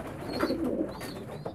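A young homing pigeon coos softly in a few low, throaty bursts, close by, with faint background chirps and room noise.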